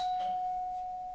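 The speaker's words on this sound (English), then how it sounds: "just the doorbell rang" A single doorbell chime rings out, a clear sustained tone fading slowly, fairly faint and heard alone in a quiet room.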